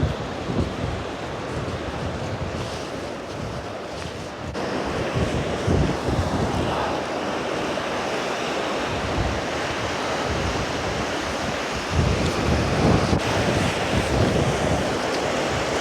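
Steady roar of ocean waves breaking on Durness Beach in Scotland, with wind buffeting the microphone and a surge of louder surf partway through as the tide comes in.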